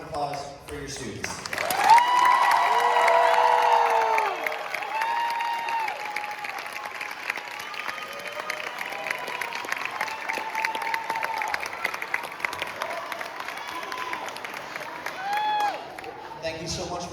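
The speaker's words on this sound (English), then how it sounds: "And then one last round of applause for your students." A concert audience applauds students at a Beaufort County school choral event. Loud clapping with cheers and whistles swells early, then holds as long, steady applause with scattered shouts before tapering.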